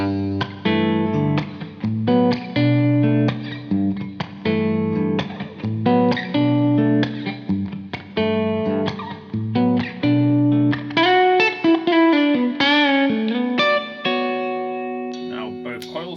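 A PRS McCarty 594 electric guitar on the middle pickup position in humbucker mode plays clean, distinct chords and picked notes with sustained ringing tones, then a brisker melodic run near the end.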